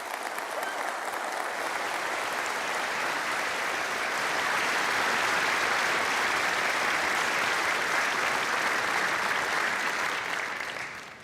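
A large convocation audience at Memorial University applauds in a long, full wave of clapping that swells slightly toward the middle and holds steady before fading at the end.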